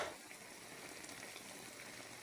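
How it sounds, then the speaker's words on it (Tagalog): Fish soup with tilapia simmering in a covered pot, giving a steady, low bubbling and hissing wash that stays even and fairly quiet throughout, with no voices over it. "Kumukulo na po."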